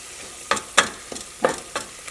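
Masala for a potato curry fries in oil over a medium flame, a soft sizzle under several quick scraping stirs in a short irregular rhythm, close by with no talking.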